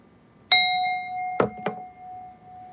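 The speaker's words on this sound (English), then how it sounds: "Since you said hi, we're gonna give you a bell." Single bright bell chime rung during a live stream, one clear struck tone that rings on and slowly decays, followed by two soft thumps while the tone lingers.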